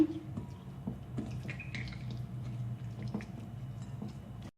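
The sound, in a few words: hands rubbing vegetable oil onto chicken breast fillet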